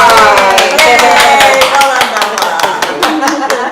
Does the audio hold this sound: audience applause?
yes